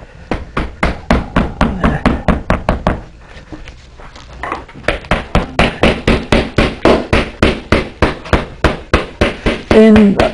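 Steady, rapid hammer strikes on a leather saddle skirt fitted to a saddle tree, sharp and close, in regular bursts with a brief pause before the pounding resumes.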